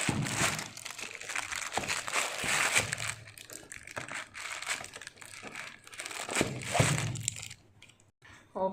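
Crinkling and crackling of plastic wrapping on an aloe vera juice pack being torn and crumpled up close, with sharp rips and rustles while a person speaks over it.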